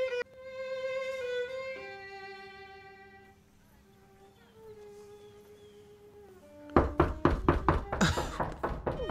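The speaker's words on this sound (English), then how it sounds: "Weird ass knock" Knocking on a door in a TV drama episode, a rapid run of sharp knocks at the end following quiet tonal music, close and fairly loud.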